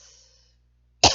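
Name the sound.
coughing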